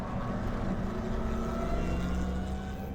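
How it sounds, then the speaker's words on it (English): Loud, straight-piped exhaust of a Winged Warrior race car ahead on the Watkins Glen track, heard from behind while following into turn 1: a steady, dense engine drone with a harsh, buzzy rasp that fills all three seconds without pause. "And his exhaust was straight piped."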